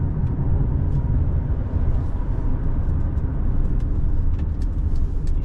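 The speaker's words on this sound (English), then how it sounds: "you can hear the sound, you can hear the exhaust note on this thing" Engine and exhaust note of a 2021 Mercedes GLB250 SUV, a steady low droning rumble heard from inside the cabin, continuous and fairly loud with no talk.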